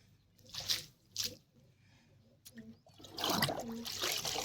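Fresh water sloshes and trickles as a pigeon's water dish is emptied and refilled, in short splashy bursts and then a steadier run of pouring near the end.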